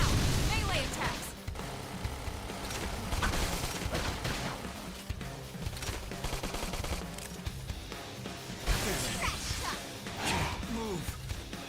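Combat sounds from the video game Xenoblade Chronicles X, with melee strikes, swooshes and crashing impacts layered over dense game music and effects, plus short voiced character shouts throughout.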